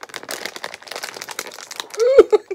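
Crinkly plastic rustles in quick, close bursts as a snack bag is handled and tugged, with a brief voice near the end.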